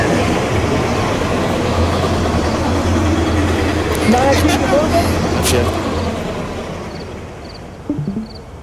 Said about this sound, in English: That is the weirdest train I've ever seen.